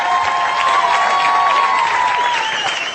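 A studio audience applauds a song on a 2007 Arabic television music show, steady dense clapping with some cheering, loud and close throughout.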